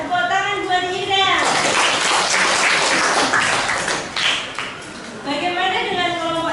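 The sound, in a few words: applause for a student in class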